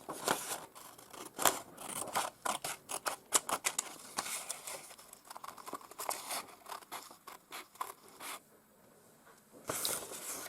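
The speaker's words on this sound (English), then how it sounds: "Then you need to cut out the shapes." Scissors snip through paper while shapes are cut out, giving a rapid run of short crisp clicks and crunches with a brief pause near the end, close and fairly quiet, with no speech.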